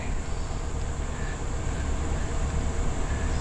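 A steady, rumbling roar of a passing train, heard from a sailboat near a raised bridge, continuous and fairly loud, with a faint high hum above it.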